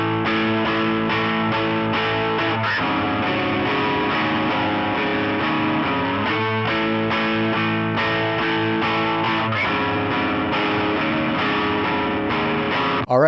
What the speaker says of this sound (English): that whole chorus riff is going to sound like this